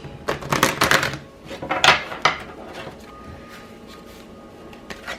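A deck of Crystal Angels oracle cards being shuffled by hand, with a few quick bursts of papery riffling and flapping in the first couple of seconds, close and crisp, then quieter shuffling rustles that fade out.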